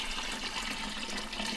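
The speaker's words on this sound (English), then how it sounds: "So we're just putting water into the tank now? We're filling it up?" Water pours steadily into a fish tank, a continuous close splashing and gushing rush that holds at an even level from start to finish.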